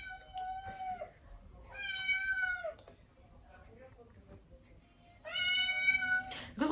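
A young kitten meows three times, loud and close, with drawn-out, rising and falling cries separated by quiet pauses.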